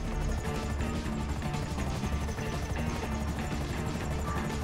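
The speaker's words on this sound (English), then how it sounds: "That is a lot of helicopters down there." Rapid, steady thudding of many helicopter rotors in GTA V fills the scene, a dense continuous chop at moderate loudness with no talk.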